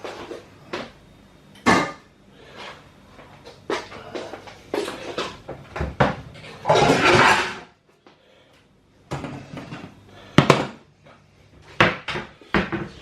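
A metal pan set down on a kitchen hob while making a chicken, gammon and leek pie, heard as a series of close clanks and knocks of cookware and cupboards amid other kitchen handling noises.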